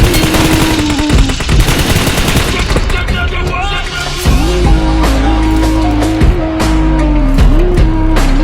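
A car engine drones and shifts pitch as the vehicle is driven in the battle royale game PUBG Mobile, loud and continuous, layered with bursts of rapid gunfire and brief tire noise.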